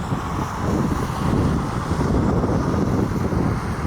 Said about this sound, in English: It is raining, it is cold, it is kind of windy.